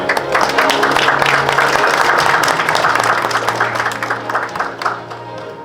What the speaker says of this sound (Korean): 따뜻한 박수로 무대 위로 모시겠습니다